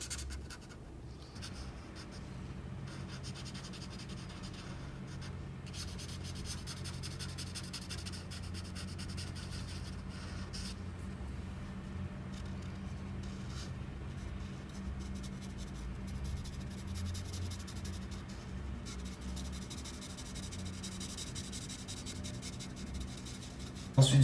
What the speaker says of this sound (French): j'utilise la couleur marron des Pro Markers, pardon, pour colorier le reste du casque